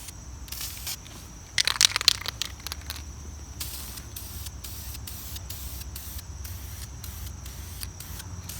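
A spray can applies primer to parts of a 1965 Craftsman bench grinder, sharp hissing bursts in short repeated passes with a rattle and crackle near the start.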